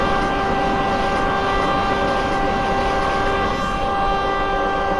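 A Vande Bharat Express in Train Simulator Classic blows a loud, sustained horn for the whole stretch. The steady tone sits over constant rolling rail noise.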